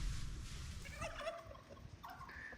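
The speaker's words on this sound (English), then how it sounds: "Turkeys are in here." Turkeys in a chicken coop gobble nearby in quick warbling calls, faint over a low rumble of background noise.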